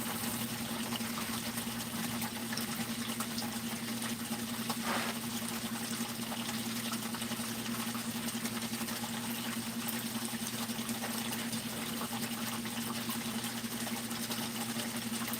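A gold prospecting pump engine runs steadily at a constant drone, loud and close, with water rushing and splashing throughout and no break in the noise.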